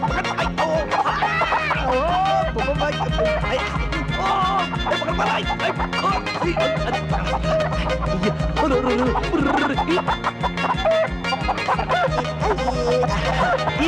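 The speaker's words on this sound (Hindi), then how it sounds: "पकड़ो अरे ओ मेरी मुर्गी" A hen clucking and squawking in agitated bursts while being chased, mixed with shouting voices and busy background commotion throughout.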